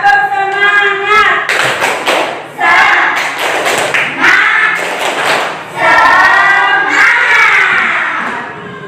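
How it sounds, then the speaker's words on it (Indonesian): A classroom of students performs a rhythmic spirit clap, loud group claps and thumps mixed with shouted chanting voices in bursts, close and energetic. "Kita tepuk semangat dulu ya."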